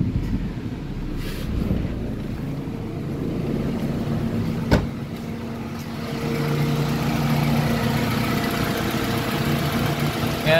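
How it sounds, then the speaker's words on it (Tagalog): A Toyota Corolla's radiator fan motor whirs steadily beside an idling engine, with wind buffeting the microphone and a sharp click partway through. "Ayan, umiikot na yung radiator fan motor."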